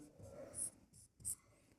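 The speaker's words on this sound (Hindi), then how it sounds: "ये लिख लेते हैं, यहाँ लिखेंगे हल" A maths solution being written by hand, heard as faint pen strokes with two short, sharper scratching bursts in a quiet setting.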